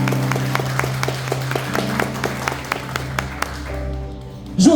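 Sharp, evenly spaced claps ring out at a revival church service over a sustained musical drone, a congregation applauding God in a steady rhythm that thins near the end before a brief voice cuts in.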